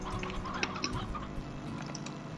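Chickens and roosters cluck in the video game Slime Rancher, a busy, fairly faint flock chatter with soft game ambience underneath and no speech.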